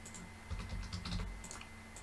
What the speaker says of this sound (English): I keep using that keyboard.